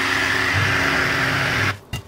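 A blender whirs steadily, grinding çiğ köfte into a paste with a sustained motor drone, then cuts off near the end with a brief restart burst.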